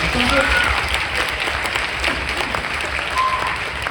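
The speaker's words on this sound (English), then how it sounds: "Can we have a round of applause for the girl?" A school jazz band audience applauds steadily after a baritone player's performance, a dense wash of clapping hands that stays loud and sustained through the whole stretch.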